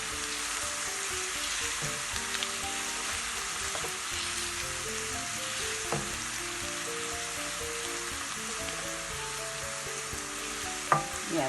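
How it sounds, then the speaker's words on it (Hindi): Crushed garlic fries in hot oil with a continuous, busy sizzle and crackle, steady and fairly loud, with occasional small pops and a faint musical background underneath. "1 टेबलस्पून जो क्रश्ड गार्लिक है वो हम ऐड कर देंगे और बस इसको फ्राई कर लेंगे"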